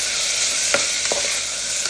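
Onions sauté in oil inside a pressure cooker, giving a loud, continuous close-up sizzle broken by a couple of brief stirring clicks.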